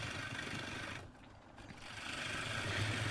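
A wood lathe spins an ash bowl blank with natural bark, giving a steady, close mechanical whir with a rough, gritty texture that dips briefly in the middle before returning at full strength.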